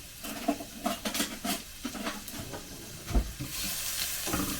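Chopped onion and ginger sautéing in a pan, a bright continuous sizzle punctuated by repeated scrapes and taps of a spoon stirring against the pan, close and without talk.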